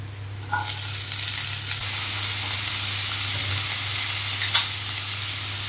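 Potatoes sizzle steadily in hot oil with ginger in a pan. The frying hiss runs continuously throughout, with a low hum beneath it and a couple of brief stirring scrapes.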